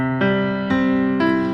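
Three firm piano strikes at an even pace, their rich tones held and layered into a continuous ringing chord, played close with no talking.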